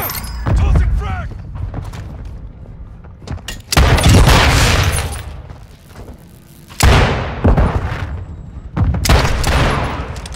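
Gunfire and frag grenade blasts in Call of Duty Modern Warfare 2 multiplayer, with an M16 in use: loud, sharp bursts and booming explosions in several separate waves, each decaying quickly, with a brief voice callout.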